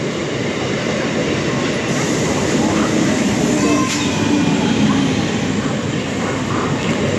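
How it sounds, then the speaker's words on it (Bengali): A train standing at a station bound for Bardhaman, its steady rumble and hum filling the platform with faint metallic squeals and background crowd murmur, loud and continuous. "এটাই যাবে বর্ধমানে আর এই ট্রেনটাই ধরবো"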